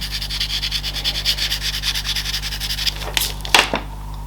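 Pastel pencil rubbing and stroking across paper while a golden touch is added to a bulldog drawing, a steady rhythmic scratchy texture of repeated short strokes, close and clear, ending in a few sharper scrapes.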